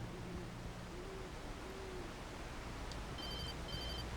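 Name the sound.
telephone ringing in the video game Alan Wake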